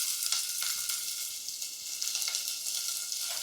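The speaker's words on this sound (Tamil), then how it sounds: "இப்போ இந்த சின்ன வெங்காயத்தை இதில் போட்டுக்கலாம்" Small onions fry in hot oil inside a pressure cooker, making a bright, continuous hiss with light, intermittent stirring taps close by, and no voices over it.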